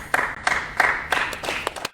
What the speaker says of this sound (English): Please offer a virtual round of applause for Judge Skorowski